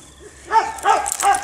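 A dog whimpers and yelps in short, close bursts during its first bath, three rising whines following a quiet start.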